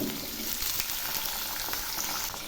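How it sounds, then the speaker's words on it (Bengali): Cumin, bay leaf, dry chilli and vegetables such as pointed gourd, potato and carrot sizzle and fry steadily in hot oil for a mixed vegetable dal tadka, a dense continuous crackle with no talking. "এখন আমি জিরে, তেজপাতা, শুকনো লঙ্কা ফোড়ন দিলাম। সেই সঙ্গে কিছু সবজি দিচ্ছি, পটল, আলু আর গাজর দিলাম।"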